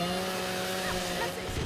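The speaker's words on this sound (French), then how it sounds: "J'ai entendu une tronçonneuse." A chainsaw revs in the video game Gears of War 4, a brief buzzing whine that rises and shifts in pitch against busy game noise.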